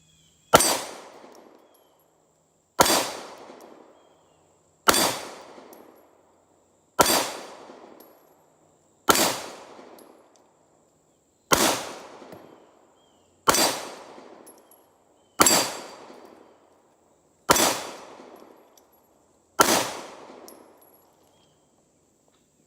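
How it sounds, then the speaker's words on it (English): Ten sharp gunshots from a Walther PPQ M1 9mm pistol ring out at a slow, even pace about two seconds apart, each loud report trailing off into a short echo, with no talking. "Walther PPQ M1. Ten rounds, here we go."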